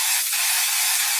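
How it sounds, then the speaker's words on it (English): A long, steady burst of Ebon lace tint spray in dark brown, misted around the perimeter of a lace frontal wig, hissing loudly and continuously from close range with no talking. "I'm just going to spray"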